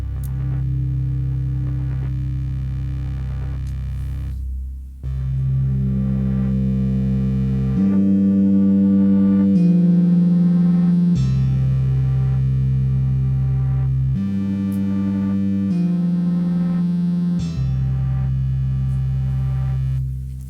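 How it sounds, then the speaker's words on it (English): Synthesizer with all keys pressed at once, routed through a Behringer unit, droning sustained tones that step through several layered chords, loud and steady for about twenty seconds with no talk. "So when I hit all the keys at the same time, I'm making my own sound."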